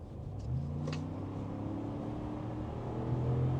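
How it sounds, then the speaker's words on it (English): A full-size SUV with a high-output 3.5 liter V6 and 10-speed transmission accelerates hard from 40 to 60 mph, engine drone rising steadily in pitch under wind and road rumble, heard from inside the cabin. "We're gonna accelerate up to 60 so you can see how well this actually does accelerate."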